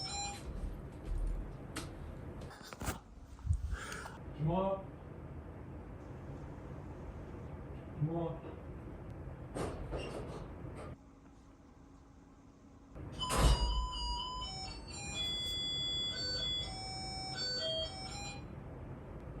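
A doorbell plays a short electronic chime melody. A louder knock-like thump comes just before it, and other household knocks and clicks are heard earlier.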